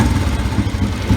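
Close, loud engine note from a repaired Royal Enfield Bullet motorcycle, a brief low throbbing rumble with a steady pulsing beat.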